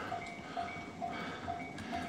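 A train passes at Itabashi Station in Tokyo with a steady low rumble and faint rhythmic metallic clacks, heard from nearby amid rainy outdoor ambience with no talk.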